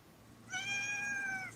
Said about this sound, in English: That is a good looking cat.